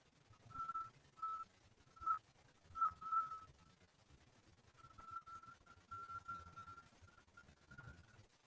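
A voice imitates a low whistle call attributed to bigfoot, heard right before twilight: a series of short, steady whistled tones in a broken rhythm, then a longer wavering stretch, fairly close and clear over faint background noise.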